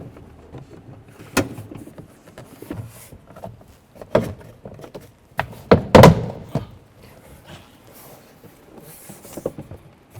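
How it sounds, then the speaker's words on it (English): Rear door panel of a 2012-17 Toyota Camry being lowered and pushed into place, giving a series of irregular dull plastic thunks and taps, with one louder cluster of knocks near the middle. "Once the door panel is set down into the sill, go ahead and push around the trim."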